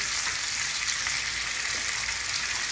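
Green chilies fry in hot oil while cooking a yogurt bora curry, a steady, close, bright sizzle with no breaks.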